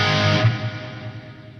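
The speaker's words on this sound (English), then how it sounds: "just big eerie, you know, room hall reverb" A Lexicon PCM70 big, eerie room-hall reverb preset swells, then decays as a long, smooth tail that fades steadily over a second or so.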